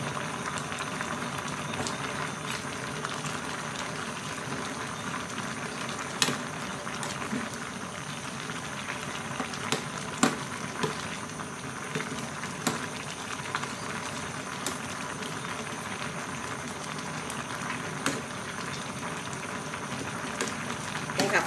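Fish and fermented bamboo shoot curry with pumpkin at a rolling boil, a continuous bubbling and popping with scattered sharper blips, steady and close for the whole stretch.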